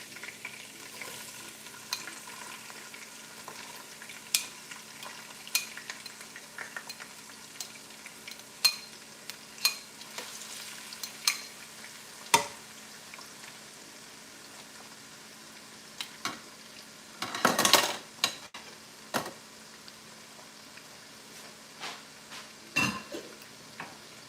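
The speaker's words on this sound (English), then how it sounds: "So these are all seared, and now we will put in the veggies." Vegetables go into a pot of seared oxtails for a stew and sizzle steadily while a utensil stirs and scrapes, with occasional clinks against the pot and one louder rustling burst.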